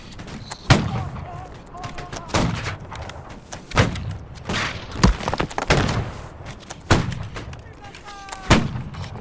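Musket volleys in the Napoleonic-era battle game Holdfast: Nations at War, sharp booming shots fired one by one at irregular intervals, some near and loud, others more distant, with a voice speaking between them.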